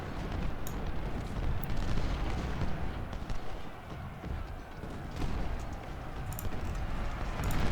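Dense, continuous rumbling cannon and rifle fire in the video game Ultimate General: Civil War, Stones River battle, with scattered booms and sharp shots blending together, loud and chaotic throughout.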